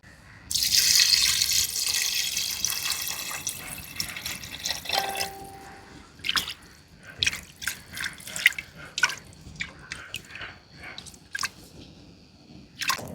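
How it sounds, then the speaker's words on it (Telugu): Water pours from a tap into a pot of mutton pieces for haleem. A strong splashing stream runs for a few seconds, then gives way to scattered drips and small clinks nearby. "మటన్ ముక్కలు మునిగేంత వరకు నీళ్లు పోస్తాను."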